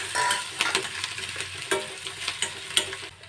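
Cumin, grated ginger and finely chopped green chillies sizzle steadily in a hot pan, a continuous crackling hiss broken by a few sharper pops and stirring clatters, close and alone without talk.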